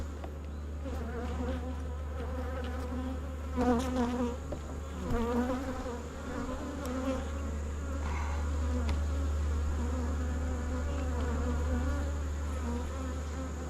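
Honey bees buzz steadily around an open beehive while capped honey frames are checked, a continuous close swarm drone with a constant low hum underneath throughout.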